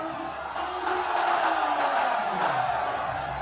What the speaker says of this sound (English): You will know why the crowd is roaring.